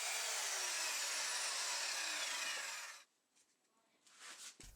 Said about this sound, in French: je commence à découper des planches qui vont servir d'aileron avant